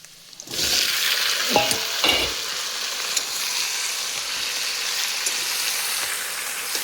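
Chopped bottle gourd hits hot oil with cumin tempering and browned onion, setting off a loud, steady sizzle. Two splashy bursts come early as pieces drop in, then the frying holds at an even level.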